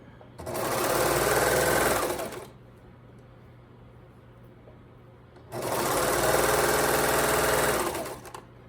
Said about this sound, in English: with a serger, you have to hold it tight when you start